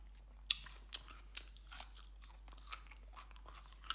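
Crisp crunching bites into raw vegetables, about eight in a steady rhythm, close to the ear with no talking.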